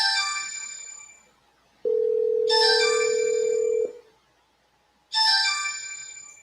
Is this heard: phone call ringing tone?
yes